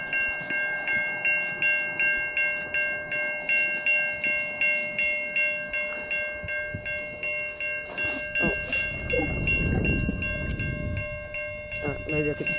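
A malfunctioning railroad crossing on Portage Road rings its bells in a steady repeating pattern with no train passing, loud and close, with a brief burst of low rumble and voices partway through.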